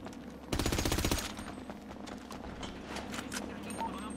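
A rapid burst of gunfire in GTA roleplay rattles loudly for about half a second, followed by quieter scattered shots and background game noise.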